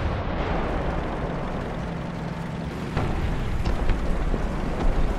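A Leopard 1 tank in War Thunder, a continuous rumbling engine and battle noise with a few sharp cannon-like bangs in the second half, fairly close and loud.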